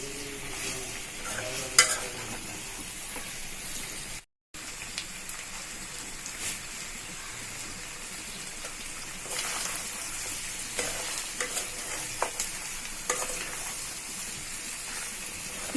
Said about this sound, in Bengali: মাংসের ভিতরে যে পানি ছিল সেটা দিয়ে আমি ভালো করে ভাজা ভাজা করে নিচ্ছি